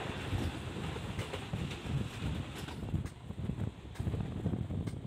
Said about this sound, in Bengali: দেখতে দেখতে ট্রেন ক্রস করছে সামনে আরেকটা।